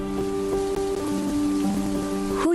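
Rain falling as a radio sound effect, a steady wash of drops over a sustained tonal bed, with a brief louder splash near the end; no one speaks.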